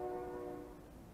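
A train about three blocks away rumbles steadily, with sustained horn-like tones sounding faintly over the low drone before fading slightly.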